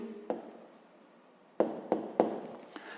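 Pen or marker scratching out an answer by hand during a 5th-grade maths lesson: a few short, sharp strokes and taps spaced over a few seconds, fairly close and quiet, with no talking.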